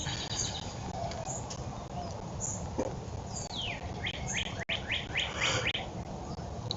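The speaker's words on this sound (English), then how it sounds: "You hear the birds." Birds chirp and tweet outdoors in the morning, with sweeping whistled calls and quick repeated notes over a steady rushing background hiss.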